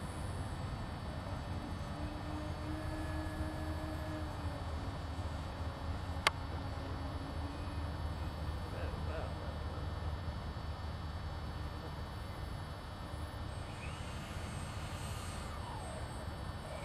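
An electric DH-84 Dragon twin-engine model biplane flies past with a steady, faint motor drone and a thin whine that shifts in pitch as it moves, distant and continuous with no talk.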